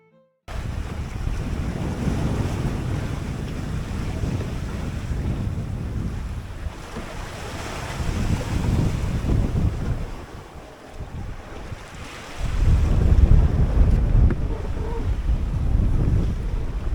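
Strong wind roars with steady surf on a 21-foot junk rig sailboat at sea in 15 to 20 knot winds gusting higher, a loud continuous rush that dips near the middle and swells louder toward the end, with no voices.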